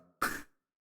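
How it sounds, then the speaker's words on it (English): A single short, rasping throat clearing, close and fairly loud, followed by silence. "gives me a chance to clear my throat as well"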